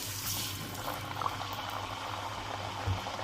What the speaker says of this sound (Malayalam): ഇനി നമുക്കത് വെളിച്ചെണ്ണയിൽ പൊരിച്ചെടുക്കാം